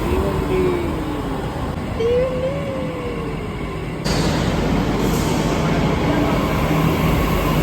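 A Delhi Metro train runs with a steady loud rolling rumble and hiss inside the carriage, brief rising tonal whines from the motors sounding through, and no talk.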